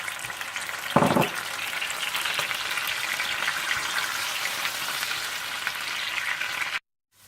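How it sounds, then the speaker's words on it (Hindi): Onion paste fries in oil and butter, giving a dense, even hiss with fine crackling, one brief louder clatter near the start, running steadily until it stops abruptly near the end. "और फिर इसी तेल और मक्खन में आप ऑनियन पेस्ट डालकर अच्छी तरह से भून लें।"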